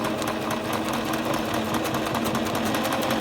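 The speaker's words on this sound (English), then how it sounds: "Now it's doing the zigzag for one side of the buttonhole" A Singer Starlet 6680 sewing machine stitches a buttonhole zigzag in light fabric, a continuous close whirring hum with a fast, even mechanical needle tick throughout and no talk.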